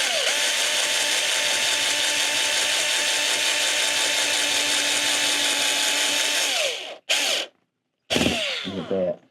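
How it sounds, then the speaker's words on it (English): A power drill drives screws into fiberglass on an old golf cart, whining loudly and steadily for several seconds before stopping, then briefly revving again in short bursts. "I'm just screwing these into fresh holes"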